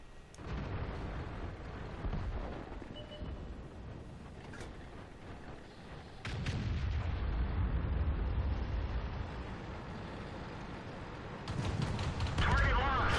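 Tank destroyer cannon fire in World of Tanks, heavy booming blasts at around 6 and 12 seconds rolling into sustained low rumble, layered over continuous in-game engine and battle noise.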